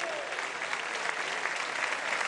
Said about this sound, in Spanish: ese aplauso para ellos